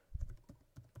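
Keys on a computer keyboard pressed repeatedly while filling in an online form, a series of soft, close clicks in an uneven rhythm, with no talking.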